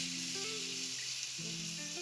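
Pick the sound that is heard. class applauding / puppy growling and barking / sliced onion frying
sliced onion frying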